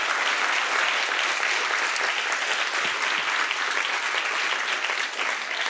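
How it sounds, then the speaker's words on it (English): An audience at a pitch competition evening gives a loud, sustained round of applause, dense and even clapping filling the room throughout without talk. "So let's go ahead and give everybody a loud round of applause."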